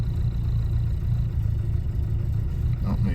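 A 1967 Alfa Romeo Giulia 1300 ti idles on a cold start with its choke adjusted, a steady low mid-pitched engine hum close by, without talk.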